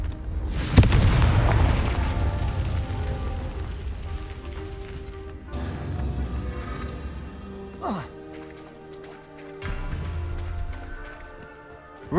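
A Confringo fire spell in Hogwarts Legacy erupts with a loud, close booming blast followed by a long rumbling decay, then softer thuds and effects, with a voice speaking over parts of it.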